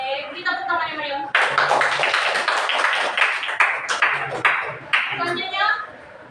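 Classroom audience clapping after a student presentation, a burst of close hand claps that thins into scattered individual claps, with speech before and after.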